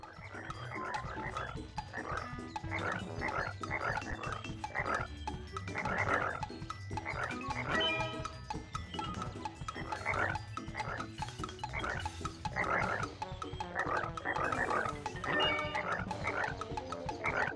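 Frogs croak in a Winnie the Pooh video game, with rapid repeated croaks overlapping in a busy rhythmic chorus that plays steadily throughout, close and moderately loud.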